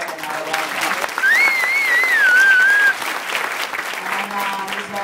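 An audience at a talk applauds with dense, continuous clapping that stays fairly loud and even for several seconds, with a brief tonal whistle over it early on.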